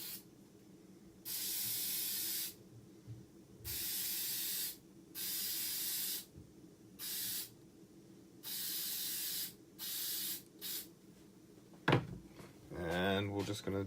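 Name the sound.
spray adhesive sprayed on model tree branches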